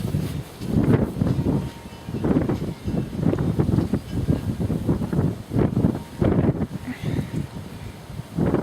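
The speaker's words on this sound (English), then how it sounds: "Maybe I can take this to a less windy area." Gusty wind buffets an outdoor microphone in loud, uneven rumbling bursts that rise and fall continuously, with a faint rustle in the background.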